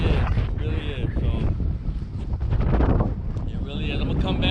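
Strong wind buffets the microphone outdoors on a blustery day in North Dakota, loud rumbling gusts roaring close and continuous while someone talks over it.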